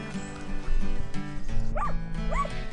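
A dog barks twice along the Camino pilgrim walking trail, short yelping calls standing out over a busy, continuous background with a steady low hum.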